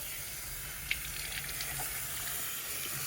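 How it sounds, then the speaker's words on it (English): Steady hissing wash of water as an Arc'teryx outdoor hat is rinsed in a bucket of cold water, with faint splashes and a small knock near the start, close and moderately quiet. "And start rinsing off the hat."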